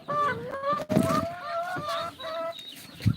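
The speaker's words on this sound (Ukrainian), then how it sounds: "Так, гуси, ходіть їсти, ходіть, пастися, ходіть." Geese honk and call repeatedly, nasal tones layered close by, with a couple of lower clucks from other fowl mixed in, on a farm at feeding time.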